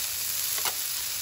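Soy sauce hitting a hot griddle of ribeye fried rice, giving a steady quiet sizzle with a brief brighter hiss burst partway through.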